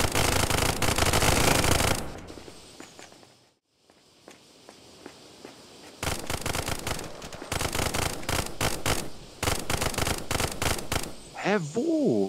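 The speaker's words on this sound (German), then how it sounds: "Ich höre auch nur Schüsse." Gunfire in the VR shooter game Contractors VR comes as rapid automatic bursts of sharp cracks, dense at the start and again later, with short gaps between bursts and players talking over the action.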